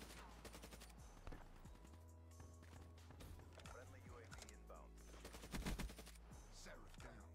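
Rapid bursts of Peacekeeper gunfire in Black Ops 3 gameplay crackle over a busy game soundtrack and footstep clatter, with a louder flurry of shots near the end.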